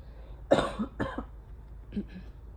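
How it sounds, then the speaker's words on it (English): A couple of rough coughs close by, followed by a softer, shorter cough and throat noise, with quiet pauses between. "I'm just coughing because my throat is getting caught up"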